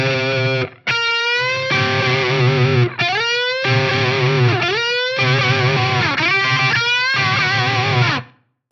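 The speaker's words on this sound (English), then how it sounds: "So we're actually playing a little dyad there that, if you get it in tune, sounds like this." Hendrix-style double-stop bends on a distorted electric guitar: a sustained two-note dyad is bent up and released several times, with the pitches sliding. It sounds loud and close, with brief breaks between phrases, and there is no talking.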